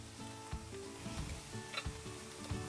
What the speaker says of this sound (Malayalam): അരിഞ്ഞു വെച്ചിരിക്കുന്ന സവോള ഇട്ട് കൊടുക്കാം